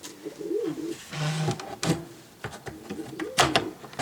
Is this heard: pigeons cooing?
yes